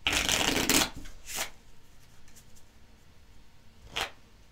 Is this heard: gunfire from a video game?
no